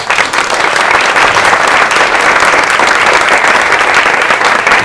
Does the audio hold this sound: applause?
yes